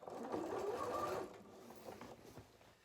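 A sewing machine stitches fabric in a straight line, a quiet, close, rapid mechanical whir that runs for about a second and then drops to softer ticks and clicks.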